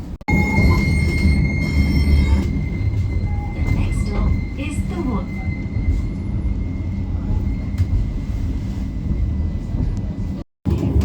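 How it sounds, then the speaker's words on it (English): A tram runs back toward Birmingham. It rolls along with a steady low rumble and a thin high wheel squeal throughout, and there is a brief dropout near the end. "I'm just going to get the tram straight back to Birmingham."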